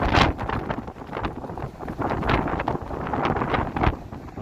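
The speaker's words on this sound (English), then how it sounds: "It's quite windy here." Steady gusty wind among tall buildings in Midtown Toronto on a cold, snowy day buffets the microphone, a continuous broadband rush with irregular thumps and no voices.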